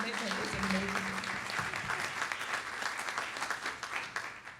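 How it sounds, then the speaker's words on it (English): Applause from the audience at a virtual launch event for a student wellness project, a fairly quiet, steady patter of clapping that continues for several seconds, with some speech mixed in at the start. "would like to ask for another round of applause"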